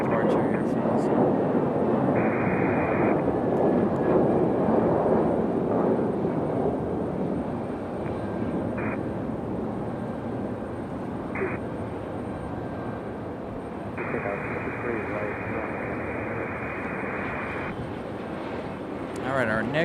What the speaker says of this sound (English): Good sounding departure here from this one.